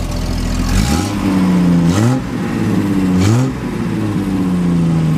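A 1971 Triumph TR6 sports car engine idles with a steady low rumble, then revs up sharply three times, each throttle blip rising and falling back to idle. Close and loud.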